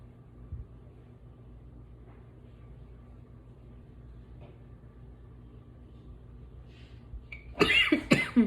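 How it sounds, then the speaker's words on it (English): Near-silent background hum for several seconds, then a couple of sharp, close coughs near the end. "I try not to cough, but it gets down in my throat sometimes."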